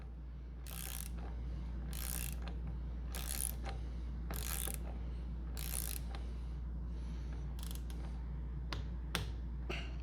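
A torque wrench set to 7.5 newton-metres tightens a nut on a RockShox suspension fork, giving a steady run of sharp ratcheting clicks in bursts over a low background hum, close and moderately loud with no talking.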